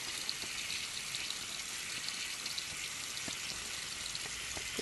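A sink faucet runs steadily, a continuous soft hissing splash of water into the basin at an even, moderate level, with no voices.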